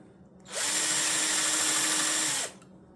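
A power drill bores holes into the end of a wooden pizza press, one loud, steady high whine running about two seconds, starting and stopping abruptly against a quiet room.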